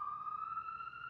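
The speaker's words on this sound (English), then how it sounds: "Excuse the sirens in the background." A faint siren wails steadily in the distance, a thin sustained tone with nothing else around it.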